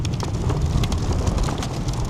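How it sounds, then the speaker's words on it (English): Steady, loud wind buffeting and rushing throughout across an open paddock at a motorkhana event, a dense low roar with gusty flutter, no voices. "that's the wind out here in this paddock"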